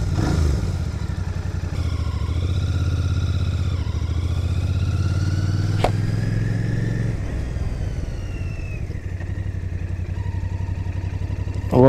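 A 2025 Royal Enfield Bear 650 scrambler's parallel-twin engine runs nearby with a steady, slightly rough thrum, its pitch rising and easing with gentle revs and a sharp click partway through.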